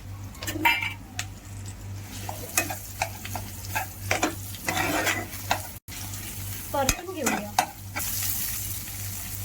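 A raw banana vada mixture being stirred and mashed in a pan, with wet squelching strokes, spoon scrapes and light clinks against the vessel over a low steady hum, close and irregular.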